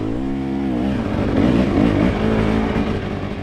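A two-stroke race bike engine revs loud and close, its rasping note climbing and falling through several throttle blips, with no voices.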